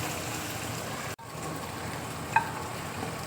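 Okra (bhindi) sizzling in a pan for a vegetable tarkari after a splash of water is added, a steady frying hiss with a brief break partway and a small clink.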